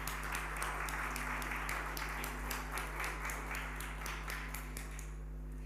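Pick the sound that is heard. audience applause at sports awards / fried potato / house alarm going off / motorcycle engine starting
audience applause at sports awards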